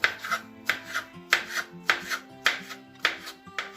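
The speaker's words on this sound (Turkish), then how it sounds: "Kalan yaprakları Şu şekilde kıyıyorum." A knife chops leftover cabbage leaves on a board in a steady rhythm of crisp, close strokes, about two per second, with no talking.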